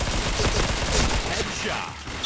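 Game gunfire in a multiplayer shooter rattles as a continuous fusillade of overlapping shots, loud and close, easing slightly toward the end.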